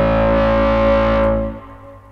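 A sustained, bright synthesizer chord recreating the War of the Worlds tripod sound rings out loudly, then cuts off and leaves a long, heavy reverberant tail fading away.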